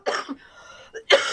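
A person coughs a few times in short, throaty bursts, close up, with a brief pause in between.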